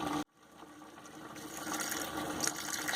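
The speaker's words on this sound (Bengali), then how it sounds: "এবার এর মধ্যে একটু জল দিয়ে দেবো," Water is poured into a pot of whole vegetables simmering for a Bengali boiled-vegetable curry. A brief sound cuts off, then a steady rushing pour builds and continues, with no voices.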